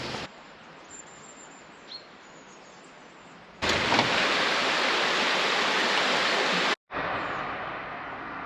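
Steady broadband rush of a river flowing by a bridge, a constant wash that jumps much louder partway through as if moving closer, then briefly cuts out and resumes at a moderate level, with a faint bird chirp early on.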